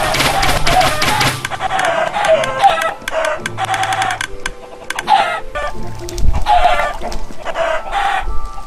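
Chickens in the Minecraft video game cluck repeatedly in quick, choppy bursts, with a rooster-like crow among them, loud and close throughout with no talk.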